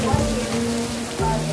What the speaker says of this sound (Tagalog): Ulan man, picture waiting nga mahuman undang ang ulan